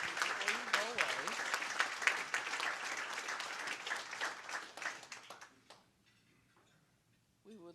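An audience at an economic club luncheon gives a sustained round of applause for a departing member, dense clapping that fades out over several seconds into near silence before a voice starts up.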